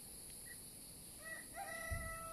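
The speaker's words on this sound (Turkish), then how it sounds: "horoz sesinin" A rooster crows faintly in the distance in a village at Türkeli, Sinop, on the Black Sea coast, a brief rising call over a quiet background hiss.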